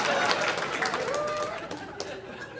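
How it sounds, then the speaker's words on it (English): A comedy-club audience bursts into applause and scattered laughter for a comedian, a dense, steady wash of clapping and chatter that fills the room without letup. "Don't applaud that."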